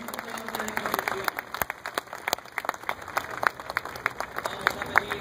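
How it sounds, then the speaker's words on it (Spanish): Crowd applause at an outdoor street procession for Saints Cosme and Damián in La Boca, with scattered sharp claps over a steady murmur of voices, moderately distant and uneven, people talking throughout. "Vamos a darles un fuerte aplauso a los santos Cosme y Damián"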